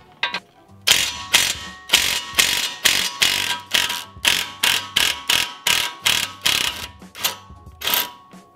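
Impact wrench hammering on the wheel stud bolts of a Nissan 350z, a loud close series of about a dozen short rattling bursts in an irregular rhythm with brief pauses between them.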